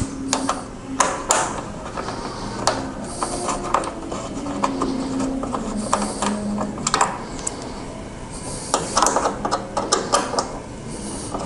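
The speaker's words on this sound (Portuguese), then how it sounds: "Vamos retirar agora a capa do tanque, chave em Allen número 5, aqui e aqui." A size 5 Allen key loosens the tank cover bolts on a Suzuki GSX-S1000 race bike, giving small metallic clicks, ratcheting taps and tool knocks in irregular bursts, close by in a quiet workshop.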